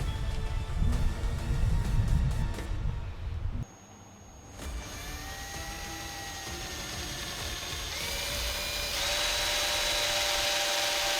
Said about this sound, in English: once you get your hole done, you can just drill them right in there.